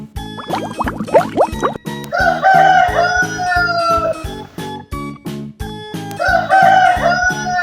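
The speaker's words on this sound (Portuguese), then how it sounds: "Galo," A rooster crows loudly in two clear cock-a-doodle-doo calls, rising then trailing off, over a steady background of bouncy music, with a few short yowling animal cries just before the first crow.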